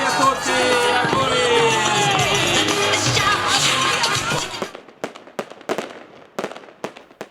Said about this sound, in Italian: ci hanno quindi pensato i fuochi pirotecnici che hanno illuminato la notte e stupito i tantissimi ospiti venuti soprattutto da fuori città